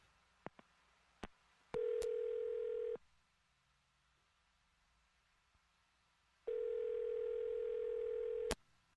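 A telephone line plays dialing sounds: a few sharp clicks, then a steady tone for about a second, a quiet gap, and a second steady tone ending in a click, all faint and clean.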